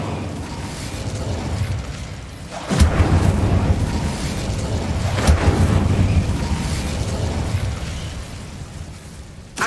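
A fire spell bursts out in Hogwarts Legacy, cast as Incendio: two loud whooshing blasts a few seconds apart, each followed by a sustained crackling roar, set against steady game background sound with no talking.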